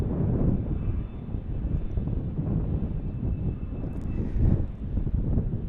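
A Mitsubishi Heavy Industries aircraft rolls on the runway at Tucson International Airport, a loud steady engine roar with rumbling wind buffeting the microphone throughout.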